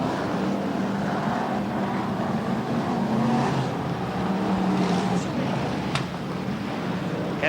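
BriSCA Formula 1 stock cars race around the Scunthorpe track in 1992, a steady roar of engines rising and falling over several seconds, heard from a distance with crowd and track ambience.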